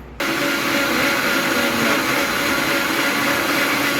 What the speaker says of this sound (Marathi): आता आपण ह्याला फिरवून घेऊया मिक्सरवर